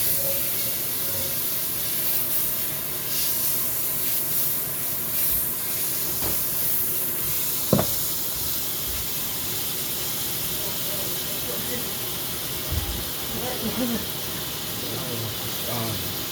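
Half a stick of butter melting in a hot pan on a home stove gives a steady, broadband sizzle and hiss that runs throughout, with a few clicks and knocks of cookware and occasional voices in the background.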